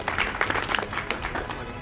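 A crowd applauds at a political gathering in Ramnagar, a busy patter of many hands at moderate distance, uneven and continuous for under two seconds with no speech over it.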